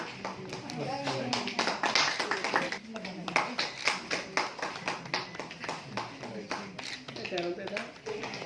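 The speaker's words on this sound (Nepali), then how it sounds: "सबैले ताली बजाएर सहयोग गरिदिनु हुन हार्दिक अनुरोध गर्दछु" An audience claps at Radio Janani's 11th annual general meeting, a scattered round of hand claps that runs under a speaking voice throughout.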